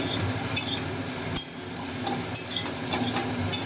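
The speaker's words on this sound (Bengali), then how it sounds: "মিনিট খানিক এরকম নাড়াচাড়া করবেন" Soybean chunks and potatoes coated in turmeric are stirred in a hot pan for an aloo soyabean curry, with a low sizzle beneath and a few sharp clinks of the utensil against the pan.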